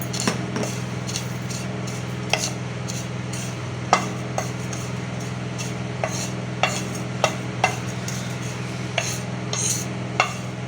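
Cumin seeds and coriander sauté in a pan for aloo tikki, frying softly at a low level under a steady background hum. A spoon stirs and taps the pan now and then in short, sharp clicks. No one speaks.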